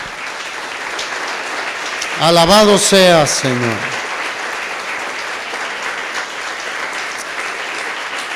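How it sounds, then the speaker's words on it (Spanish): A church congregation claps steadily and continuously in a full, sustained patter, while a voice briefly calls out over the clapping partway through. "Démosle un aplauso al Señor."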